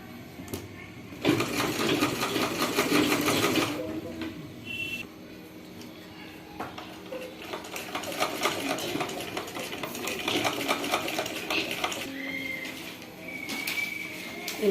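A sewing machine stitches gathered frills into the lining of a silk petticoat (pattu langa) cut from a saree. It makes a steady, close mechanical whirring in bursts, running loudest near the start and then pausing and restarting.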